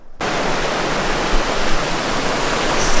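Loud, steady rush of flowing water on the Appalachian Trail, like a nearby cascade, filling the whole clip after a brief quiet start.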